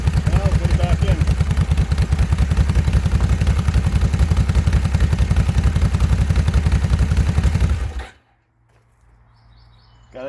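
A Kawasaki Brute Force 750 ATV engine runs loud and close with a rapid, uneven stuttering pulse for about eight seconds, then cuts off abruptly, leaving faint background noise.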